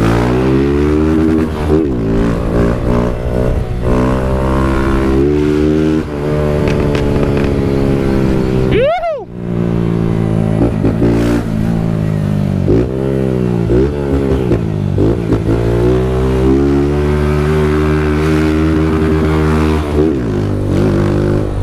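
A Honda Titan 160 motorcycle with retarded ignition timing revs hard and shifts gears. The close, loud engine note climbs, drops briefly at a gear change, then climbs again for a sustained run.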